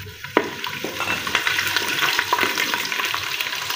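Desi garlic cloves and spices frying in hot ghee in a village kitchen, a continuous close sizzle with crackling pops and occasional stirring clatter, steady and moderately loud with no voices.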